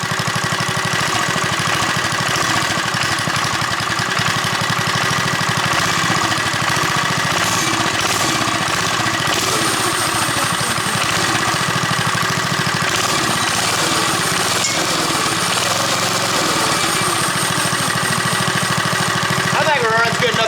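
The small engine of a JCPenney Bird minibike runs loud and near, a rapid rattling, slightly uneven putter with a high whine on top that continues without a break.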